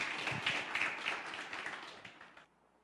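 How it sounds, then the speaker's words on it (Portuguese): A church congregation bursts into a round of applause, dense rapid clapping that starts strong and tapers off before stopping abruptly near the end. "Merece uma salva de palmas?"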